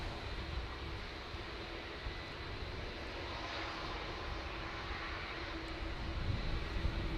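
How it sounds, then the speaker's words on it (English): Turkish Airlines Airbus A330 at Manchester Airport, a distant steady engine roar and rumble that swells slightly toward the end, heard faintly without talk. "I can see the Turkish A330 there."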